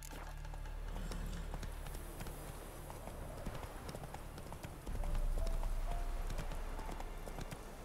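Horse hooves clip-clopping at a steady gallop in The Witcher 3, a continuous rhythmic drumming of hoofbeats that grows slightly louder midway, with faint game ambience underneath.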